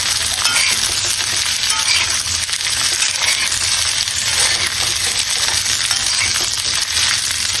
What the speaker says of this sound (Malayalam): നമുക്ക് കട്ട് ചെയ്ത് വെച്ച കോവയ്ക്ക ആഡ് ചെയ്യാം. എന്നിട്ട് നന്നായിട്ടൊന്ന് ഇളക്കി കൊടുക്കാം.